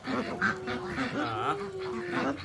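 Ducks or geese calling on a small farmstead while being fed, a run of nasal honking quacks close by and fairly loud, overlapping in an uneven rhythm.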